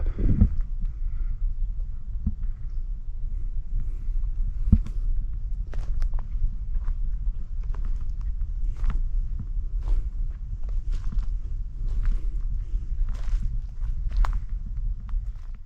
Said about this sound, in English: I'm pretty sure I was kicking dry sticks and it was sounding like something running away.